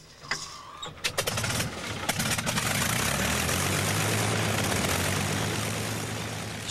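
A propeller-driven fighter plane flies overhead, starting with a few sharp clicks before a steady engine drone builds to full loudness and holds.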